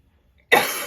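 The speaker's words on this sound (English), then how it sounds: "I'm going to cough." A single sudden cough from a woman, close and loud, breaking a moment of silence and trailing off rough and breathy.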